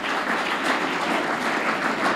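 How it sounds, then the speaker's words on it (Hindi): Audience applause at a school event, a steady dense clapping from many hands that holds at an even level throughout, with no voices on top. "ताली बजाओ इसके लिए।"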